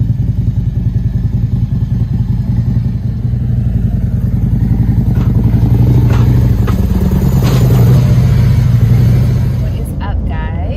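A motorcycle engine runs steadily and loudly up close, with some clatter and a rise in revs midway, before cutting off near the end; speech-like sounds are faintly mixed in.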